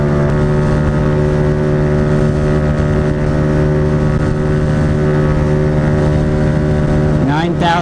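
A Honda Ruckus scooter engine drones steadily uphill at high revs, a loud continuous whine fitted with Dr Pully weight sets, rising sharply in pitch near the end as the throttle opens further.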